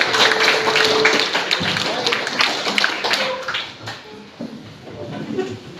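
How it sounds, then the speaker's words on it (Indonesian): Classroom audience applauding a student group presentation: steady, dense clapping from many hands that carries through, with voices chattering underneath. "kita beri tepuk tangan untuk kelompok"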